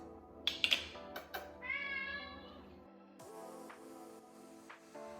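A pet cat meows in a home kitchen as cans of black beans are opened, one drawn-out, close meow after a few sharp clinks, followed by quieter room noise.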